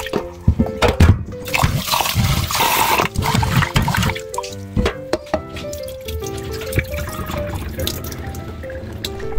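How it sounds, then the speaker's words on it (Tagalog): Water poured over rice and swished to rinse it in a home kitchen, splashy irregular pouring and sloshing with clinks, set against music with no talk. "Lagyan natin ng tubig at banlawan ng 2 beses."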